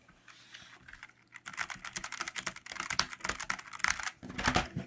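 Keys clatter on a Logitech G915 TKL keyboard in quick, dense bursts of clicks, starting softly and then a fast continuous run of typing up close with no talk.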